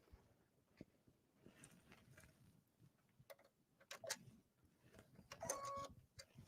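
A Luminaire sewing machine running a straight stitch while a zipper goes into a garment, with faint intermittent ticking and short mechanical bursts, growing busier and louder toward the end.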